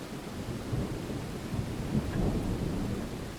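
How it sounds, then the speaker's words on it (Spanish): Deep rolling thunder from a lightning strike during a storm, a sustained low rumble over steady rain, loud and close, with no voices. "el rayo cayó directamente sobre ella"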